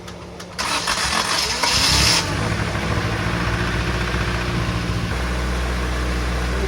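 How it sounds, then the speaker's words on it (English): A 1990 Acura Integra engine, running cold with a suspect idle air control valve, cranks and catches, briefly revs loud, then settles into a steady, close, rumbling idle. "Listen to the noise it makes at idle."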